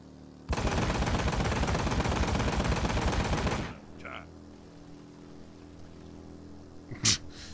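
Dense, rapid automatic gunfire from the shooter game Road to Hell Retribution rattles loudly for about three seconds, then cuts off into a quieter stretch with a couple of faint clicks and one short sharp report near the end.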